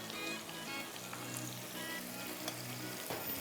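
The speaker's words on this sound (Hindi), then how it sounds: "इसके अंदर डालेंगे, प्याज के साथ ये थोड़ा सा फ्राई हो जाएंगे" Spices, including turmeric, mustard seeds and ginger-garlic paste, fry with onions in a hot pan, giving a steady close sizzle with faint stirring scrapes and no voices.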